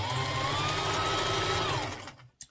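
Stitching crinoline onto the hem of a fish skirt, a sewing machine hums in one steady close run for about two seconds, then slows and stops, with a brief clack at the end.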